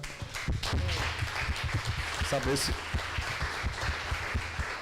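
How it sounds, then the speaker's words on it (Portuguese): An audience at a lecture claps in scattered, uneven bursts, with voices talking over the applause. "pedir uma salva de palmas"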